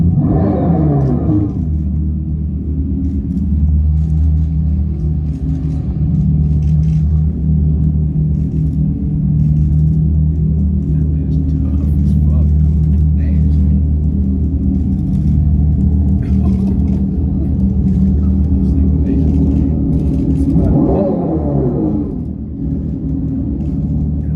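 A deep, loud synthetic exhaust rumble from a 2024 Dodge Charger Daytona SRT electric muscle car drones continuously, swelling at the start and again near the end as if revving.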